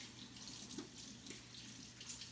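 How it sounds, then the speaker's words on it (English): Warm tap water runs steadily as hands are rinsed under it, a soft continuous hiss with small splashes, quiet and close, no talking. "then you may rinse off your hands with nice warm water"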